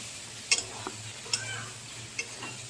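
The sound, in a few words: stirring poppy seed paste into frying pointed gourd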